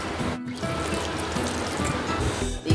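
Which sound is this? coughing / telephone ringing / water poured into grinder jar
water poured into grinder jar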